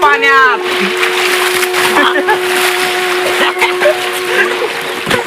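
People splash and plunge into water during a picnic at a farmhouse, with irregular sloshing and splattering bursts amid excited voices talking and calling out nearby.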